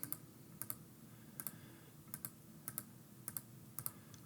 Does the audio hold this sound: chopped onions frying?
no